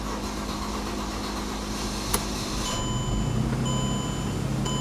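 A Mercedes-Benz E350 with a 3.5L V6 engine runs at idle, giving a steady close mechanical hum that thickens slightly partway through, with no voices.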